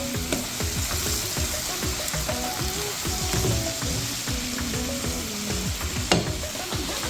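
Minced garlic sautéing in a pan with seafood pasta vegetables, a steady close sizzle under repeated scraping and clacking stir strokes throughout, with no talking.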